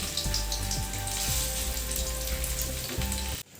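Soybean fritters (bora) deep-frying in oil over a low flame, a steady close sizzle and crackle running throughout with faint utensil taps, no voices.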